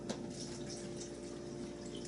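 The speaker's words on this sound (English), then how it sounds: "And then we want to add 2 cups of water." Two cups of water pour into a blender, a soft continuous splashing stream that holds steady and fairly faint with no talking over it.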